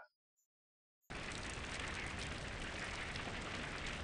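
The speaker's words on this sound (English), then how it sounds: "That sounds like rain." Steady broadband rain ambience from a mining and crafting video game, starting abruptly after near silence and continuing as a dense, even hiss of falling rain with no speech.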